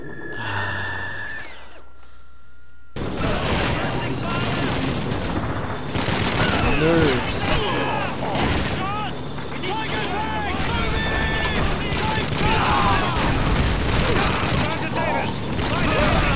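Rapid bursts of gunfire and explosions in the World War II shooter Call of Duty 2, dense and loud throughout, with a voice talking and gasping over the battle after a brief quieter opening.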